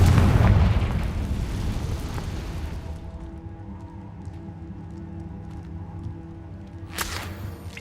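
Casting the Confringo explosive spell in Hogwarts Legacy sets off a loud booming blast that opens the clip, then a low rumbling tail dies away into quiet ambience before a sharp crack near the end.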